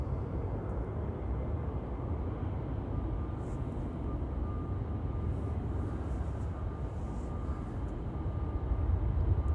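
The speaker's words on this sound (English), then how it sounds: "That's an A321neo." A year-old KLM Airbus A321neo jet departs from Amsterdam Schiphol Airport with a steady, broad low rumbling roar that swells slightly toward the end, heard from a distance with no talking.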